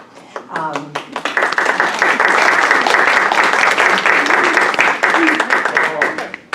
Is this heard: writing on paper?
no